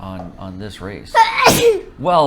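A sharp, loud sneeze bursts out in the middle of casual talk during an iRacing league race broadcast, with voices speaking before and after it.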